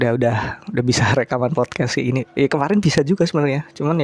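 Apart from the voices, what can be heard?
No everyday noises stand out.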